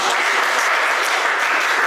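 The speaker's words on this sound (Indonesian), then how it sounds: "tepuk tangan dulu" Steady, dense applause from an audience at a university lecturer certification teaching presentation, sustained and fairly loud throughout with no talking.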